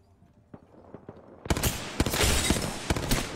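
Hemlock burst rifle firing in a first-person shooter, a few faint shots early and then a louder stretch of rapid, closely spaced gunfire with sharp cracks, fairly near.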